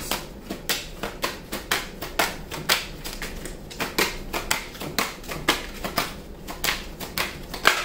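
Tarot cards are shuffled close by in a steady run of crisp, papery flicks and slaps, with no one speaking.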